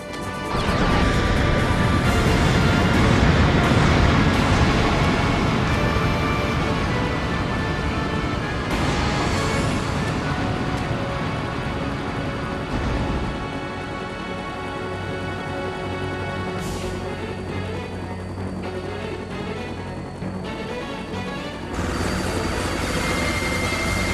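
A chopper in the Demolition Girl video game whirs through a continuous loud stretch, buried under dense game effects with repeated crashes and smashing impacts and no voices.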